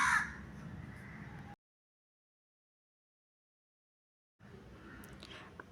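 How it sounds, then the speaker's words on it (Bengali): A crow cawing loudly nearby in a short burst, then a long silence before faint background noise returns. "এই কাকটা এসে জানি না কোথা থেকে কাকা করতে শুরু করে দেয়"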